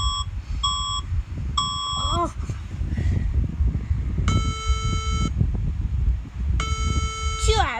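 Alarm sounding in repeated electronic beeps, first a few short tone bursts, then two longer sustained tones, over a constant low rumbling background with a brief exclamation from a voice.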